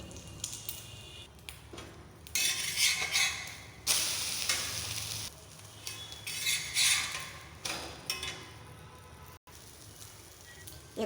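A quail egg omelette frying in a little oil, with a soft steady sizzle broken by bursts of louder crackling and the occasional scrape of a utensil against the pan.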